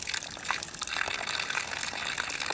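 Spring water wells up on a trail outdoors, gushing and splashing in a soft, steady, bubbly wash with small irregular spatters.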